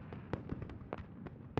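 Fireworks in the video game Love and Deepspace burst in a quick irregular series of sharp pops and cracks, faint and distant-sounding, with no voices.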